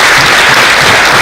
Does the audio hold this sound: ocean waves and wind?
no